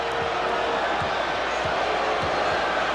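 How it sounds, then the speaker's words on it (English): Basketball arena crowd during the 1993 NBA Finals game between the Chicago Bulls and New York Knicks, a steady loud roar of applause and cheering with a few dull thuds from below, under a commentator's voice. "An ovation for Charles Smith as he is replaced by Anthony Mason"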